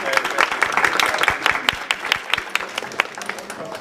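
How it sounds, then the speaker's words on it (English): Applause from the audience at a board of education meeting, a burst of many hands clapping at close range that holds steady for several seconds, with a few voices murmuring underneath. "First auditor to get an applause."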